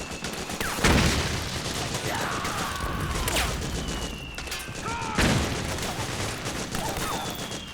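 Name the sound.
gunfire from the video game Metal Gear Solid 4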